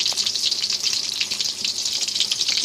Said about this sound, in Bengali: কাবাবগুলোকে ভেজে নিতেছি